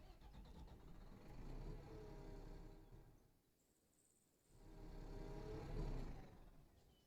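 Armored BTR vehicle engine in a combat video game, a steady mid-pitched running drone that fades away briefly in the middle, then swells back and builds louder toward the end.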